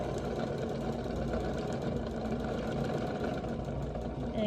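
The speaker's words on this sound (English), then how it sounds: "I'm gonna go ahead and sew and guide and keep sewing a straight line" A sewing machine stitches a straight seam along a pillow, its motor whirring in a steady, unbroken drone up close with no talking.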